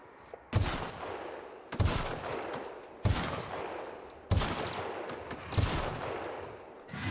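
Gunfire in The Outer Worlds comes as five evenly spaced, sharp, loud shots, each trailing off in a long echoing decay, with no talk.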